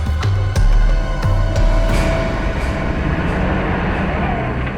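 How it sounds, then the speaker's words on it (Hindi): A truck engine in a forest, heard as a drama sound effect: a loud, steady low rumble with a few sharp clanking knocks early on, with no one talking. "ट्रक की आवाज? ट्रक जंगल में?"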